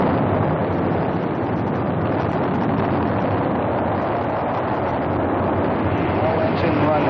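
The Apollo 11 rocket engines roar at liftoff in July 1969, a steady, muffled, unbroken rumble heard in old, band-limited recording quality, with a voice likely talking over it.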